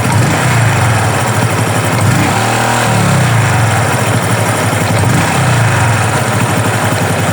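A Honda XRM RS 125 fuel-injected motorcycle engine runs at a loud, close idle, a rough, steady putter with a couple of short revs, no voice over it.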